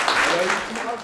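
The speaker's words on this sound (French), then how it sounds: "Je peux l'applaudir." Short burst of audience clapping at a community performance in Roubaix, dense and steady for about a second, with voices mixed in underneath.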